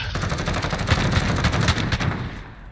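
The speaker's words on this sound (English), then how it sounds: "The big German machine gun." A big German machine gun fires in Call of Duty Modern Warfare (2019), one sustained rapid burst of dense, heavy gunfire lasting a few seconds, loud and close, with no voices over it.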